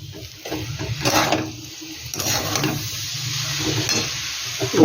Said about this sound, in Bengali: দইটা লবণ দিয়ে আমি নেড়ে নিচ্ছি